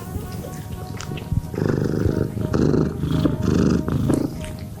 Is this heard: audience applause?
no